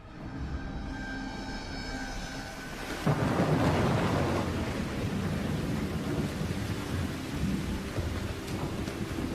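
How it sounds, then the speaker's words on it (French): Steady rain hisses in a broad wash, joined partway through by a deep rumble that swells and lingers under the downpour. "La pluie qui s'abat sur la planète en la transformant devrait également nous refroidir."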